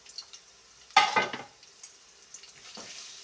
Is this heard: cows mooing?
no